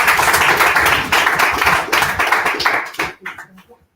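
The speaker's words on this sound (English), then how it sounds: "And applause for Vilde." An audience at an academic talk gives a dense, close round of hand clapping for the next presenter, holding steady for about three seconds before thinning into a few last claps and stopping.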